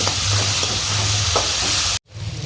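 Chopped large tomato is stirred into a sizzling pan, with frying hiss and a few scraping strokes close by, then a sudden cut to quieter cooking noise.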